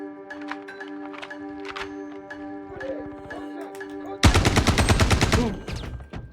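Gunfire in the sci-fi shooter Star Citizen: scattered shots and tonal game hums early on, then a loud, rapid burst of automatic fire that rattles close for about two seconds before cutting off.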